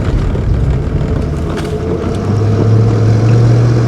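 A 1995 Chevrolet Corvette with the LT1 V8 drives over a bumpy road, its steady low engine drone and road rumble loud and close, with wind buffeting and no voices.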